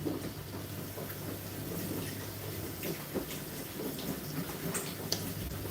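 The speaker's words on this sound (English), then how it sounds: "Wash my hands." Water pours steadily from a tap while hands are washed, a soft continuous hiss with light splashing, fairly faint and alone.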